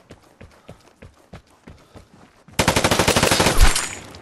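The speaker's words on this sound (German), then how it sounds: "Schritte hören sich sehr nah an." Footsteps in the shooter Vigor, a steady run of soft, close thuds at a quick walking pace, then cut off by a loud burst of rapid automatic gunfire.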